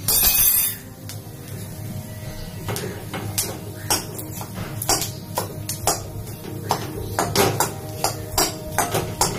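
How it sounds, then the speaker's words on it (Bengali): Boiled potatoes are tossed and stirred in a dry wok with no oil, making a steady run of close metallic clinks, taps and scrapes of the spatula against the pan over a quiet background. "এবারে সেদ্ধ করা আলুগুলো দিয়ে দিচ্ছি"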